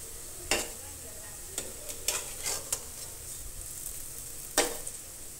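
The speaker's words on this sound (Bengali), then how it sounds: "এবার আমি লো আছে বড়ার 2 সাইড খুব সুন্দর করে ভেজে নেব ওলট পালট করে" Banana fritters frying in oil in a pan, a steady soft sizzle with a few sharp clinks and scrapes as they are turned over, close and moderately quiet.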